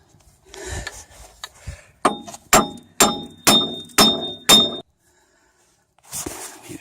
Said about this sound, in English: now it's just pounding to get this off